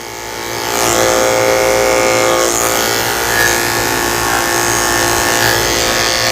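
Electric dog clippers fitted with a 7 blade buzz steadily and loudly, close up, while shaving the fur around the tail base of a Bichon-Shih Tzu during grooming; the motor's pitch shifts slightly as the blade meets the coat.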